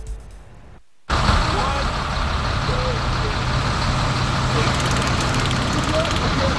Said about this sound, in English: That's the sound of a Fort Wayne police officer using his taser to get a driver they say was drunk